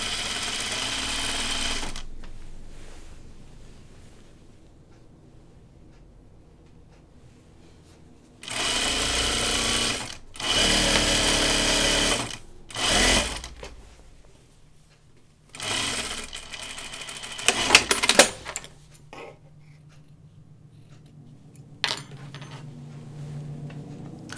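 A serger runs in several bursts while stitching dress fabric, loud steady mechanical whirring separated by quiet pauses, the final burst rattling unevenly.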